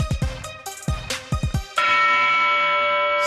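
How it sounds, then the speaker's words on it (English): Bell struck on a sports talk show, several quick rhythmic dongs followed by one long ringing tone that sustains and fades slowly, loud and alone. "You heard the Dong bell."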